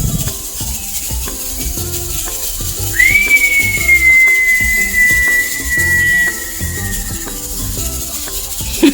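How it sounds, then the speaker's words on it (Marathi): A pressure cooker cooking chicken pulao lets out one long, loud, steady whistle lasting several seconds, over a constant background rattle and hiss nearby. "सिटी कशी वाजली."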